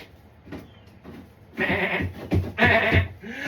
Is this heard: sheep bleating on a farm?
yes